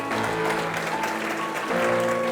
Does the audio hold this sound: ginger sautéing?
no